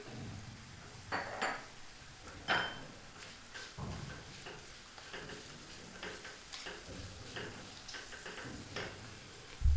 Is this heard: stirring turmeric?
yes